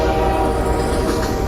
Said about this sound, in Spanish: el tren.